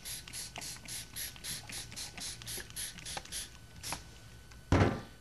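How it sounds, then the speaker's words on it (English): An old Spick and Span container used as a spray bottle pumps water onto a painting surface in a quick series of about a dozen close, evenly spaced spritzes, followed by a louder thump. "I have a spray bottle. This is just an old spick and span container. And I really flood that surface with a lot of water."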